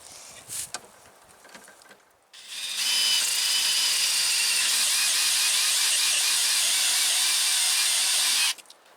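A PVC reamer cuts into plastic pipe with a loud, sustained grinding hiss lasting about six seconds, preceded by faint handling clicks and ending abruptly.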